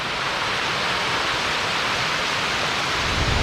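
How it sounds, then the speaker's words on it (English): Water rushing over the Grassy Lake spillway makes a dense, constant roar, steady and fairly close, with no voices. "It's another cool water feature. This is the spillway for Grassy Lake."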